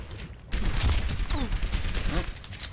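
Rapid gunfire from Genji's attacks in the video game Overwatch, a loud, dense burst that kicks in after a quieter half-second and keeps rattling with short whooshing sweeps to the end.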